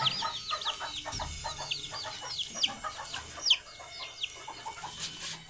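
Chicks and chickens on a small home flock peep and cluck softly. High chirps repeat irregularly above low clucking, with faint background rustle and no talk.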